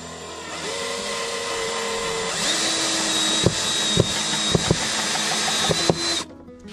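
A power drill drives screws during a Webasto gas heater install in a Promaster van. The motor whirs in short bursts, and sharp clicks and knocks sound close by.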